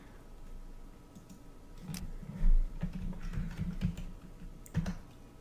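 Computer keyboard typed on in short, irregular bursts of close, crisp key clicks at moderate volume, with no talking.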